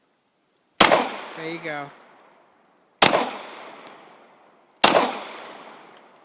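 Three sharp, loud Glock 9mm pistol shots, from a Glock 17 Gen 2 or Glock 19 Gen 3, crack out at spaced intervals at an outdoor range, each followed by a decaying echo, with a brief spoken phrase between the first two.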